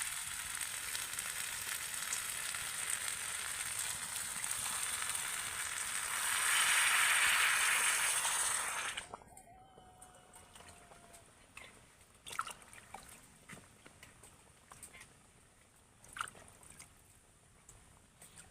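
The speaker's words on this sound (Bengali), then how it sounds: "এবার আমি চালের মধ্যে দিয়ে দেবো জল" Water poured into a pan of spiced rice for home-style egg biryani, a loud broad sizzling hiss for about nine seconds that cuts off abruptly, followed by quieter bubbling with scattered small clinks.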